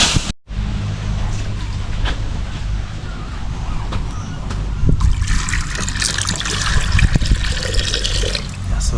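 Water is poured into a pot for boiling to pluck hunted wild birds in an African village, an outdoor trickling and splashing that continues steadily and grows brighter and busier toward the end.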